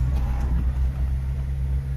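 A Subaru Sambar KS3/KS4 with a freshly repaired carburetor idles steadily, a low, throbbing engine rumble heard up close for a couple of seconds.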